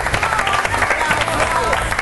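Studio audience at a singing academy talent show applauds, dense clapping filling the whole stretch with crowd noise and voices mixed in, fairly loud and close.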